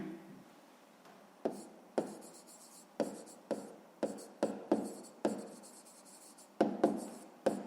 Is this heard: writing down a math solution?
yes